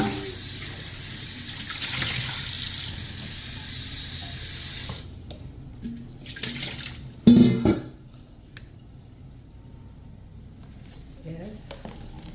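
Tap water runs steadily into a sink while a pan is rinsed out for about five seconds. It then stops, leaving a few clatters, a sharp knock and soft drips, with a voice speaking nearby.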